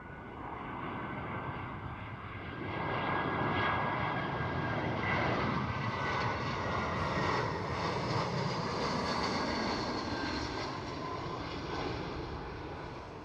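A British Airways airliner at Amsterdam Schiphol airport gives off a continuous jet engine roar that swells and holds steady at a moderate distance, with no talking.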